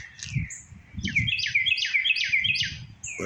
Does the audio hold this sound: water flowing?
no